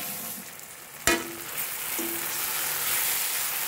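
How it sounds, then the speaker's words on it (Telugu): A masala paste of ground coriander, cumin, poppy seeds, ginger and garlic is dropped into a hot pan for a bean curry, with a sharp hit followed by a steady, loud sizzle that keeps building. "ఈ మసాలాను వేగనిద్దాము।"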